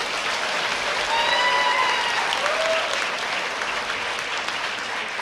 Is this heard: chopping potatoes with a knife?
no